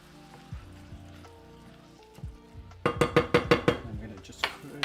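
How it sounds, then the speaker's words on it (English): A spoon stirs chana masala in a pot, starting with faint scattered clinks, then a rapid run of sharp metallic knocks against the pot near the end. "let me give this a quick stir"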